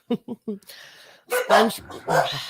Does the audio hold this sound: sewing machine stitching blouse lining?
no